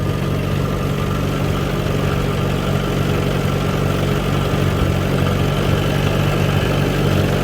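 A Farmall B tractor engine idles steadily and loudly in a field during cultivating, a dense low rumble holding constant throughout with no talk.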